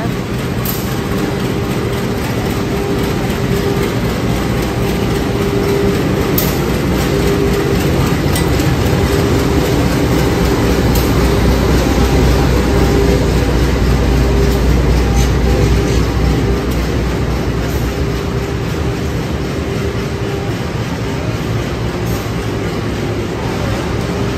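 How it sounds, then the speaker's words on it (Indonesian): A passenger train rumbles steadily into a station in Indonesia, its loud, continuous wheel and engine noise filling the whole stretch with faint rail clatter and no clear voices. "Oke, akhirnya ini keretanya datang juga."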